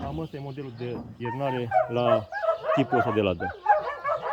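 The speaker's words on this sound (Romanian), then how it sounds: "Din păcate, se aud și câinii." Dogs bark in the background of an apiary while someone talks continuously beside a polystyrene-insulated beehive box set up for wintering; the barking sits under the speech.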